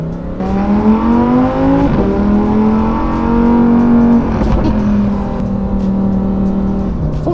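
A Lamborghini STO sports car engine drives at a countryside event, its loud, steady, harmonic drone rising and falling gently with throttle changes throughout, close and continuous with no talking.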